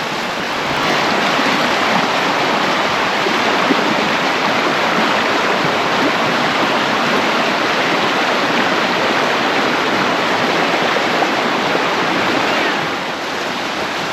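A spring stream flows near Königssee, an Alpine lake, as a loud, steady rush of running water that fills the whole stretch without pause, with no voices heard.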